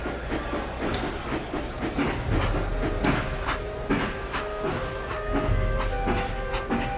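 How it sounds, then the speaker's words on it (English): A steam engine backs slowly down onto a line of coaches at a station, heavy wheels clanking and thudding over rail joints in an uneven rhythm, with hissing and a steady low rumble close by. "he moved aside as another big engine backed down onto the train"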